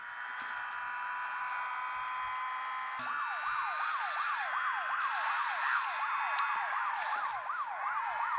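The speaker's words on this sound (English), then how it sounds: "We've got a police car after us." A police car siren wails in a racing video game, first a steady tone, then a fast rising-and-falling yelp that repeats for several seconds over constant engine and traffic noise, with no talking.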